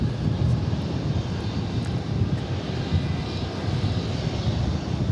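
An American Airlines airliner rolls for takeoff on runway 18 left at DFW Airport, a steady, broad engine roar that holds loud and constant throughout with no talk.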